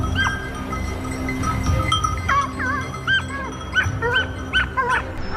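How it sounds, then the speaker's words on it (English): Hunting dogs barking at a cornered wild boar, repeated yips and barks with some whining at a moderate distance, coming in quick bursts over a low rumbling background. "The barking rang out in succession, signaling that the prey had been cornered."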